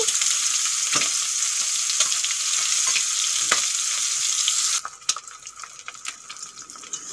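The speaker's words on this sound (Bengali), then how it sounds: "ডিমগুলো ভাজা হয়ে গেছে, এখন আমি তুলে নেব।" Eggs frying in hot oil for a home-cooked egg dish, a loud, steady close-up sizzle that suddenly drops to a quieter, scattered crackle partway through, with no voices.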